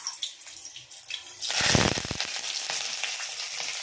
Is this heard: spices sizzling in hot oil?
yes